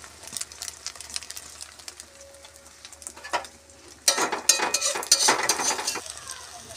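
Egg and potato snack frying in a pan, a light sizzle broken by sharp clicks and scrapes of a utensil against the pan, louder and more active in the second half, no talking.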